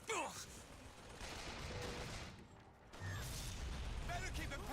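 Turret gunfire in the video game BioShock Infinite, rapid mechanical bursts amid battle noise, with voices shouting over the shooting.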